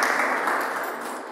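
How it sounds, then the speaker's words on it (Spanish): A church congregation breaks into sustained applause, a dense, even roar of clapping hands that fills the space and fades slightly toward the end. "denle un aplauso al Señor y póngase de pie"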